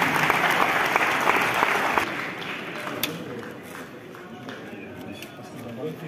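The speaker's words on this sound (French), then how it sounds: "monsieur Younes Bouhedi, sous vos applaudissements." Audience applause at the opening ceremony of the ninth Visa for Music festival: dense clapping for about two seconds, then fading to scattered claps and murmuring crowd noise with a few sharp sounds.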